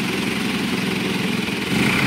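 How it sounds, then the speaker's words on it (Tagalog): A motor tricycle's engine runs steadily close by on a Filipino street, a continuous low droning rumble with no break, heard alone. "Ay, tricycle!"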